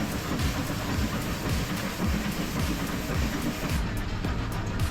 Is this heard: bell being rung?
no